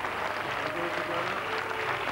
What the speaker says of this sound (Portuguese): Um coro de aplausos para um vencedor inesperado.